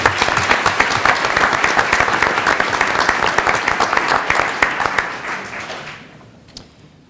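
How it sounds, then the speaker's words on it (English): An audience at a school board of education meeting gives a loud, full round of applause that stays even for about five seconds, then quickly tapers off to a few scattered claps and near silence. "please join me in giving him a round of applause."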